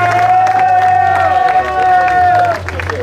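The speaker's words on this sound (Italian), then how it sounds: "Un applauso triplo" A crowd at a hill climb race awards ceremony applauds, with scattered claps and cheering over a steady held tone and background hum, fairly loud and close throughout.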